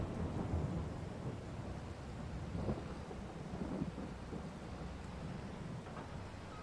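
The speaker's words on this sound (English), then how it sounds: "And it's raining." Steady rain hisses through a thunderstorm in the Farming Simulator 22 video game, with low thunder rumbling now and then under a constant wash of falling water.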